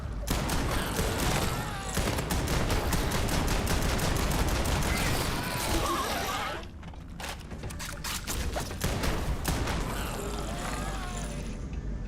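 Shotgun firing slugs in the video game Starfield: dense, rapid gunfire and mechanical clatter heard close, then a brief drop before sparser shots, with a voice present at times.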